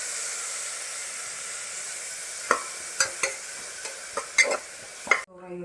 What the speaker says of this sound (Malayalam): അരിഞ്ഞു വെച്ച ഉള്ളിയും ക്യാരറ്റും ചേർത്ത് കൊടുക്കാം. ചെറുതായി വഴറ്റിയെടുക്കാം.